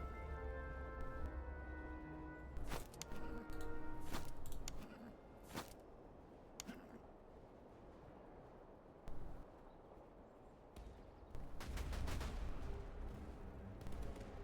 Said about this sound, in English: their artillery is now switching targets to our cavalry